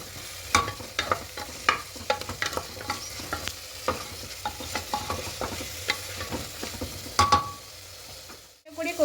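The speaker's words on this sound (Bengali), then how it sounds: "চিকেনটা দিয়ে খুব ভালো করে একটু 2-3 মিনিট কষিয়ে নেব" Chicken sautéed and stirred in a little oil with vegetables for a thin curry, a close steady sizzle broken by frequent sharp scrapes and clinks of a spatula against the pan.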